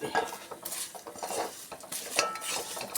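A spoon stirs spices, including asafoetida and fenugreek powder, in a pan for beetroot pickle, giving close, repeated metallic scrapes and clinks in an uneven rhythm over a faint sizzle, with no talking.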